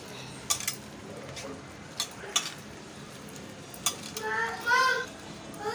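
Soft scraping and clinking of a utensil stirring a poha and semolina batter in a bowl, a few light taps and swishes, fairly quiet with faint background hiss.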